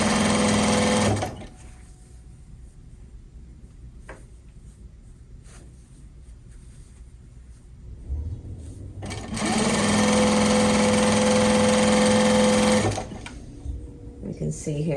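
A sewing machine runs in two loud, steady bursts while stitching a box cushion slipcover, separated by a quieter stretch where a person speaks and brief clicks are heard.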